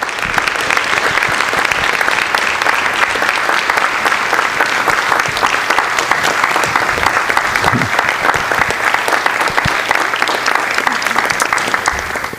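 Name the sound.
audience applauding students at a school board meeting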